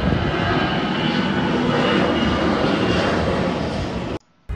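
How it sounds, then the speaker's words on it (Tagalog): Air Transat Flight 236, an airliner accelerating down the runway on takeoff, its engines producing a loud, steady broadband roar that holds for about four seconds before cutting off suddenly. "unti-unti nang umaandar ang eroplano hanggang tuluyan na itong nag-take off"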